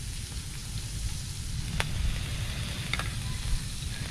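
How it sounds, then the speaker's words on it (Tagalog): A steady, close sizzle of food sautéing in a pan over a wood fire in a provincial kitchen, with a constant crackling hiss and a couple of faint utensil clicks. "At dito ko na rin igigisa"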